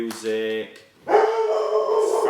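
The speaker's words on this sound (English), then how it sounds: "That's my dog barking." A pet dog barking indoors, two or three loud, close barks with a whiny, howling edge, one cut off and followed by a longer drawn-out yelp.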